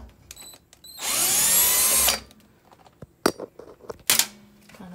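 A cordless power drill spins out square-head screws from an RV stove: one sustained whir of about a second, then scattered clicks and shorter taps, with a brief second burst near the end, close and loud.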